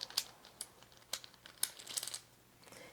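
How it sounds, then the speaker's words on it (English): Rune stones shuffled inside a small bag give a few quiet, scattered clicks and crinkles spread over a few seconds, close by, with no talking. "So I'm going to shuffle the runes a little bit."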